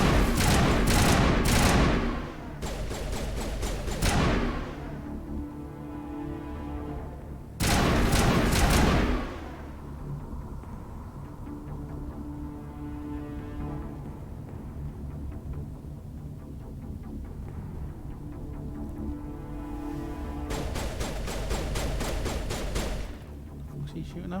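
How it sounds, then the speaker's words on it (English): Gunfire in Mass Effect comes in two or three heavy bursts of rapid shots, separated by quieter stretches of droning game ambience, with the last burst rising again near the end. "What's he shooting now?"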